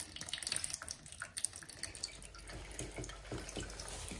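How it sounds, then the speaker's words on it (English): Water drains from a central heating radiator being removed from the wall, trickling and splashing unevenly into a container close by, with small drips and gurgles throughout and no talk. "As you pull it up, you'll see that the water will start coming out."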